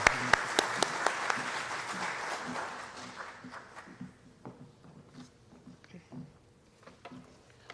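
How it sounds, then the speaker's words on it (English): An audience at a summer institute event applauds to welcome a guest to the stage, loud sustained clapping that gradually thins into scattered claps and footsteps as the room quiets. "let's give a big round of applause for all you've done for us"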